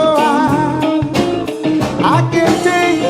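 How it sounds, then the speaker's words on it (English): A closed triad chord played on a keyboard instrument in a pop song arrangement, the tightly voiced notes ringing over a beat with rhythmic accents, loud and close throughout. "So a closed triad will sound like this."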